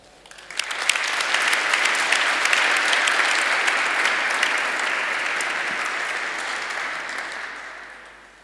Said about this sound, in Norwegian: Let's give an extra round of applause.